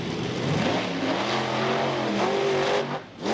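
A monster truck roars across a speedway, its engine revving loud and close with rising and falling pitch, then dipping briefly as the throttle lifts before surging again.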